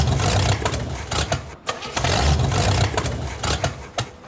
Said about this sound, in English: At last, the firemen get to spark up their engines.